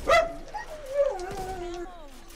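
A man imitates a dog with his voice, giving a loud yelping bark followed by a drawn-out whining howl, close and alone in a quiet room.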